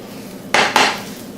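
A metal pan clatters twice against a plate while a soft-cooked omelet is slid off it, two sharp, close metallic scrapes in quick succession over a quiet kitchen background with no talk.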